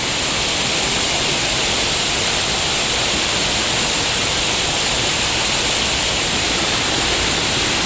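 A forest waterfall pours in a steady, dense rush that fills the whole stretch without pause, loud and close.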